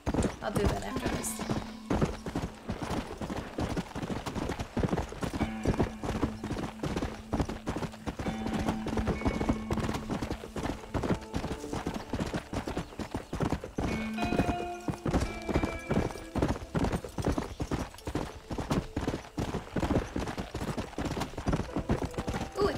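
Rapid hooves of a war horse in Red Dead Redemption pound in a fast galloping rhythm throughout, with a horse whinnying and a voice talking over the steady clatter.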